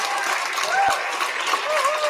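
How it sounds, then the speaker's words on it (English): Applause from an audience at a school student recognition ceremony for STEM winners, a steady wash of clapping heard at moderate distance with faint voices mixed in. "Big round of applause for all of our STEM winners."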